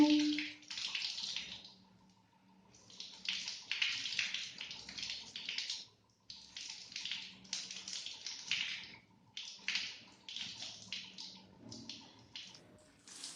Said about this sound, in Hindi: मैंने बाल धोने के लिए 2 बाल्टी पानी लगा दिया